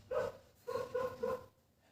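A dog barks three or four times in a short burst, close and moderately loud, with brief pauses between the barks and quiet afterward.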